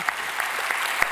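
A conference crowd at a superconducting qubits event claps for the panelists, a brief steady patter of applause from a seated audience.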